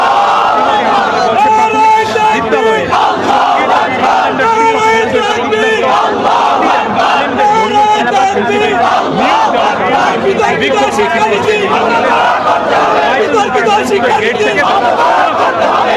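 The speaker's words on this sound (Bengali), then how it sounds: "নিশ্চয় শুনতে পাচ্ছেন তাদের স্লোগান" A large protest march crowd chants slogans in unison, a loud, continuous rhythmic roar of many voices that fills the whole stretch without pause.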